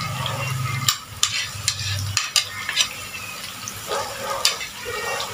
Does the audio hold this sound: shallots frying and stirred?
yes